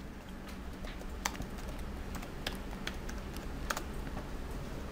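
Rapid clicks of a computer keyboard as Java code is typed, an irregular run of close, light keystrokes over several seconds with a few sharper taps and no talking.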